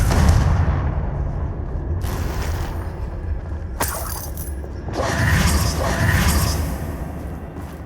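Confringo explosive spell blasts in Hogwarts Legacy, sharp crackling bursts with rumbling low-end booms recurring across the fight, loud and near amid ongoing combat noise.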